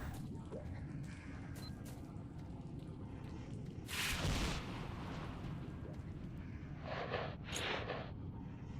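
A shotgun fires in the video game S.T.A.L.K.E.R.: Shadows of Chernobyl, one sharp, loud boom followed by a rumbling tail, then two quicker bursts a few seconds later.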